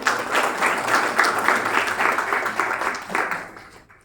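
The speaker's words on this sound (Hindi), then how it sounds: "तो इसके लिए भी जोरदार तालियां" An audience at a block-level e-learning program event claps loudly and steadily, the sustained applause fading out over the last moments.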